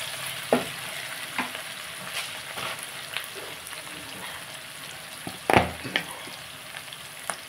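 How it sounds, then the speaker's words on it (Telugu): Potato, beetroot and carrot curry frying in a pan, a soft steady sizzle broken by a few sharp scraping stirs, close and fairly quiet with no talking. "ఇవి బాగా మనం ఫ్రై చేసుకుంటాం."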